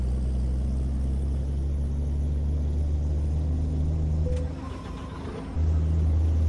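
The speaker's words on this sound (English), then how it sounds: "Richard Rushton, it's an older Volvo sound mod" Older Volvo truck engine sound mod in Euro Truck Simulator 2 with winter driving on Promods, giving a steady deep engine drone that dips briefly as if shifting gear, then resumes with a faint high whine above it.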